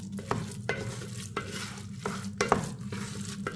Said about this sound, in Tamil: இதை எல்லாத்தையும் நல்லா மிக்ஸ் பண்ணிக்கிடுவோம்.